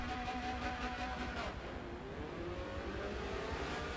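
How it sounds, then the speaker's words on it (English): Racing engines rev and whine together in a steady mechanical roar in the Forza racing video game, with a pitch shift midway, fairly quiet and without voices. "And we hear them revving up, getting ready to go."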